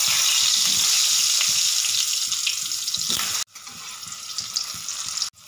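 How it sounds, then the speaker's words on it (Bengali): Potatoes coated in salt and turmeric fry in hot oil, making a loud, continuous hiss up close that drops abruptly partway through and then resumes more softly. "এবার আমি আলুটাকে দিয়ে দেব।"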